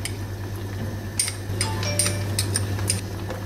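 Beef cubes and annatto oil are stirred into boiling soup in a pot, giving a steady low bubbling hum under a run of light clinks and taps from a utensil. It is close by, with no one talking.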